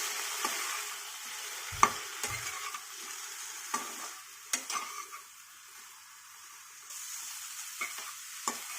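Chopped Malabar spinach leaves fry in a pan with a spoonful of oil, giving a faint, soft sizzle while a spatula stirs with scattered light scrapes and knocks.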